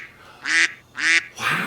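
A human voice imitates a duck with three nasal quacks, evenly spaced and fairly loud, each lasting about a quarter second.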